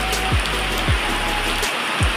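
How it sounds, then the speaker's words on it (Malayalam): Heavy rain falls steadily, a dense continuous hiss of water splashing on surfaces close by, with a few low thumps. "ഇവിടെ എല്ലാം ഭയങ്കരമായിട്ട് മഴ പെയ്തുകൊണ്ടിരിക്കുകയാണ്"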